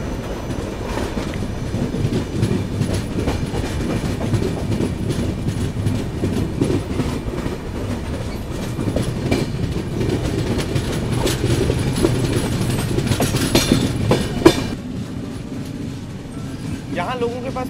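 The Vivek Express rolls along the rails in North East India, a loud, continuous rumble with rhythmic wheel clatter and a brief squeal near the end, heard from aboard with voices mixed into the noise.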